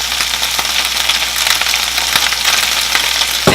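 Romaine lettuce wilts in a hot pan, a loud, dense, continuous sizzle with a faint low hum beneath and a sharp knock right at the end, with no talking.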